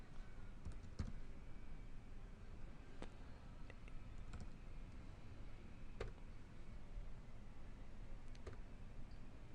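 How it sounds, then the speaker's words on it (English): Keys on a computer keyboard are typed at an irregular pace, faint soft clicks heard alone against a steady background hiss. "So I just start typing in their email or their name"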